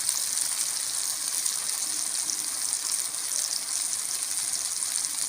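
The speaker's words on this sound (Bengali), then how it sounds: "ভালো করে আমি কষে নেব।" New potatoes with turmeric, Kashmiri chili powder and salt sautéing in oil in a pan, giving a steady, even hiss and sizzle throughout with no talk.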